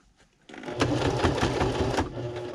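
Sewing machine with a number 4 stitch and heavy-duty thread, stitching around a thick fabric double gun case, a steady close rhythmic chatter of the needle after a quiet start.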